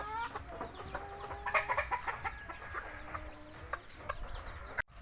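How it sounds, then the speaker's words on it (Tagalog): Rhode Island Red chickens cluck and chatter close by at feeding time, a dense flock of overlapping calls with a few sharper squawks and a brief clatter near the end. "magpapakain muna tayo, magpapamerienda muna tayo dito sa ating Rhode Island Red"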